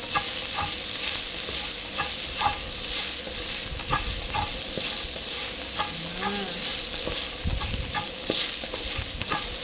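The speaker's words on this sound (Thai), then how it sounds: "ใส่ตะไคร้กับขาที่เราซอยไว้นะคะ ลงไปเลย คั่วให้หอมๆนิดนึง" Sliced lemongrass and galangal stir-fry in a pan with a steady, close sizzle, while a spatula scrapes and taps against the metal at irregular intervals. No voices are heard.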